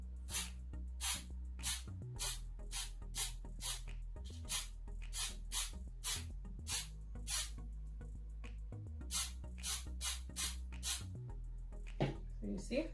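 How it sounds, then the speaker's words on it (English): Spray paint can spraying a bottle: a series of short, sharp hissing bursts in irregular rhythm, close and fairly quiet, with a low background hum and a person speaking between sprays. "we can get the bottle and spray it again"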